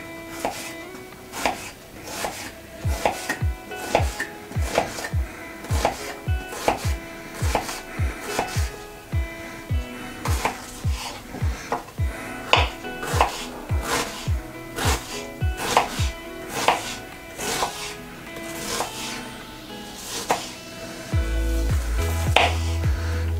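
A knife rapidly chops half an onion on a cutting board, dozens of quick, close, sharp strikes in a steady brisk rhythm that keep going for about twenty seconds before a low thump near the end.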